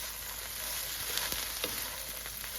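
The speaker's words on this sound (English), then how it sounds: "I just put in some Poblano pepper that I sliced up and some corn. It's raw, I just cut it off the cob, and I'm gonna saute this." Sliced poblano pepper and raw corn cut fresh off the cob sautéing in a pan, a soft, even sizzle with a few faint stirring knocks, steady and fairly quiet throughout.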